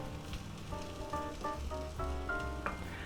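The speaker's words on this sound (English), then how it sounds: "Now what we're going to do is put our sausage on." Smoked sausages sizzle steadily in a cast iron skillet, a continuous close frying crackle with a faint steady tone running underneath.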